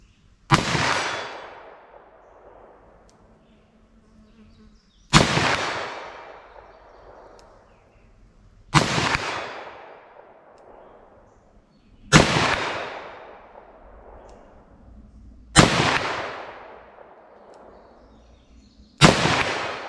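Six loud, sharp gunshots from a Ruger SP101 revolver firing .327 Federal Magnum rounds, spaced about three and a half seconds apart. Each crack is followed by a long, fading echo tail.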